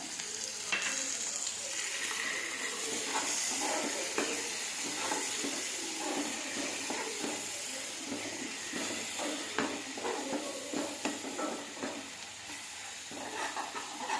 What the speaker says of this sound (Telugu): ఇది గ్రేవీ మసా వేయించేస్తున్నాం